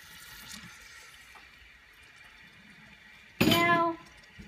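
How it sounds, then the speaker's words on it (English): Water poured into a bowl holding tomato paste and green pepper: a short, loud splash and pour of about half a second after a quiet stretch, close by, with no talk. "And then you add some water."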